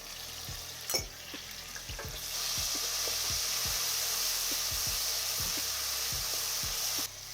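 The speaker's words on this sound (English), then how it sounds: "we're just wanting to wait for the sizzle" Garlic ginger paste, a 50-50 mix, hits a hot pan for a lamb rogan josh and breaks into a steady, loud crackling sizzle after a few scrapes and taps of a utensil against the pan.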